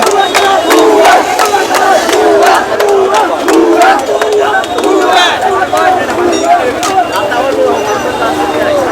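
A large crowd shouts and chants in a continuous, rhythmic roar during a joyful street procession of families in Maijdee, Noakhali, with voices rising and falling and close, steady throughout.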